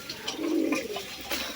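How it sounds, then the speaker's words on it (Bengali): A male pigeon gives a single low, rolling coo, close and clear against a quiet room background. "ডাক দেখেন কবুতরের"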